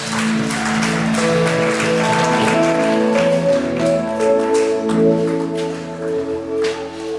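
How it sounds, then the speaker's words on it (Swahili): Church worshippers keep up a long stretch of clapping, with scattered claps riding over steady instrumental music that carries through the whole passage. "Ongeza makofi kwa Bwana Yesu."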